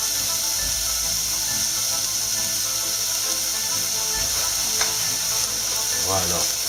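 Rice sizzles and crackles in melted butter in a pan, a loud steady hiss up close with occasional scraping stirs, under faint intermittent speech.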